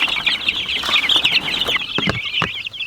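Cornish cross chickens cluck and chatter steadily near a new coop, a dense, close run of calls with a few sharper clucks toward the end and no talking.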